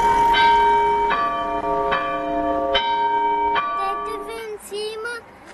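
Monastery church bells ring in slow, evenly spaced strikes with long ringing decay, loud and close, the tones blending as they overlap.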